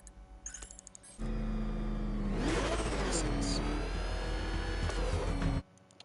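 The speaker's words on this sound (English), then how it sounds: "I gotta get better at driving this Batmobile." Batmobile engine in Batman Arkham Knight roars loud and steady for about four seconds, revving and surging, then cuts off abruptly, with a quieter mechanical rattle before it starts.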